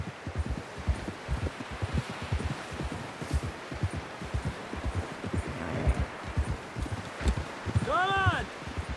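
Horse hooves clip-clop rhythmically through snow in Red Dead Redemption 2, a steady, close, moderately loud gait running the whole time, with a voice speaking over it near the end.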